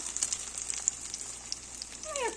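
Steady crackling sizzle of meat breaded in rolled oats and corn flour frying in a pan, close and even, with a brief high chirp near the end.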